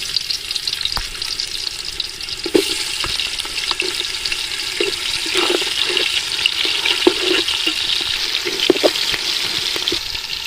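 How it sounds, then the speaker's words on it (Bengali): Raw onions drop into a modest amount of hot oil for a village-style Bengali prawn pulao, giving a steady, close, bright sizzle with scattered pops and spatters throughout. "আমরা কাঁচা পেঁয়াজ দিয়ে দিলাম।"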